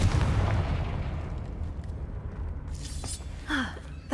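A Confringo blasting spell goes off in Hogwarts Legacy, a heavy rumbling boom that fades into a long low decay, followed by lighter crackling bursts and a short swooping magical whoosh near the end.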